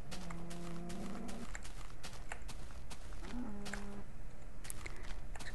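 Two low, drawn-out moos from a cow in the Minecraft video game, the first starting the clip and the second a few seconds later, heard over a steady background with faint clicking footsteps.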